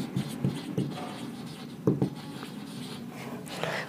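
Chalk or marker scratches and taps as equations are written on a board during a physics lecture, short strokes in bursts with a low room hum beneath.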